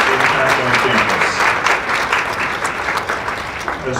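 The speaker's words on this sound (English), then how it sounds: "I think a little round of applause for the Women's Place and its impact on campus." Dense, sustained clapping from a large audience at a women's reception on a university campus, steady and loud throughout with faint voices mixed in.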